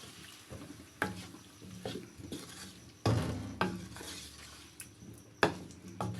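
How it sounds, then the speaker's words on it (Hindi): Potatoes coated with turmeric are stirred in a pan for aloo baingan sabzi: a spoon scrapes and clatters against the pan in irregular strokes, with a few sharper knocks and a faint sizzle underneath and no talking. "हल्दी और डाल के हम मिक्स करेंगे अच्छे से"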